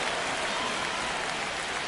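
Steady, dense stadium crowd roar from a night baseball game in MLB The Show 25, Red Sox against the White Sox in the ninth inning, a continuous broadband wash with no distinct cheers or breaks.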